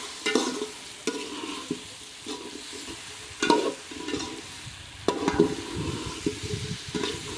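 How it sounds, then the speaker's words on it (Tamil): Brinjal, beans and radish are tipped into a hot pan and stirred, giving sharp scraping strokes at intervals over a soft continuous sizzle, with no voices. "இப்போ நம்ம கட் பண்ணியிருக்க வெஜிடபிள்ஸ்லாம் ஆட் பண்ணிக்கலாம்"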